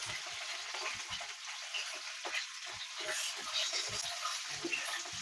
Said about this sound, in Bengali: মোটামুটি একই সঙ্গে ভেজে নেবো সবজিগুলো সব